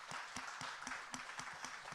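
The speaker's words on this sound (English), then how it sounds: "And so can we just give that a round of applause?" An audience at a food and climate conference gives a faint, distant round of applause, a steady patter of many hands clapping throughout.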